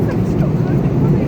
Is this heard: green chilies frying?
no